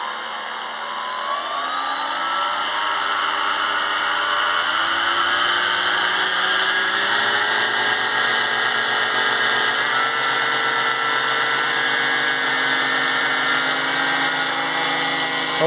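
A converted Lidl RC glider with three electric motors runs up, all engines whining together in a loud, steady buzz with several tones rising and shifting in pitch as they spin up, close to the recorder.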